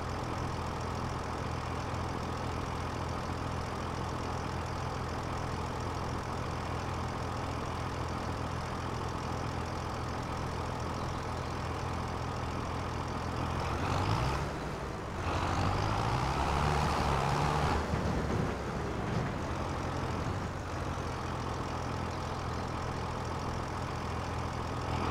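Tractor engine in the video game Farming Simulator 2025, a steady low idling drone running alone throughout, swelling briefly louder around the middle before settling back to a constant hum.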